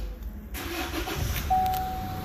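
2016 Chevy Colorado diesel pickup with a fault history cranking and catching, a rough rumble swelling into a steady idle with a thin whine appearing, close and loud with no talk.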